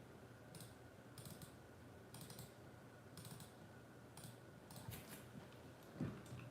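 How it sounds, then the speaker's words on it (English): Fingers tap out quick bursts of keystrokes on a computer keyboard, faint clicking in short clusters with brief pauses between them, in a quiet room without talk. "As I'm typing this in"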